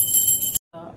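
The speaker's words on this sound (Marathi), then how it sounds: "ही आपली घंटी." A small hand bell rings in a bright, sustained metallic tone during a home puja as a lamp is lit, stopping abruptly, then a faint sound follows.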